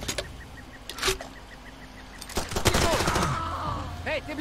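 Gunfire bursts in Far Cry 2, a sharp crack near the start and then a denser stretch of shots mixed with game noise, fairly close and loud.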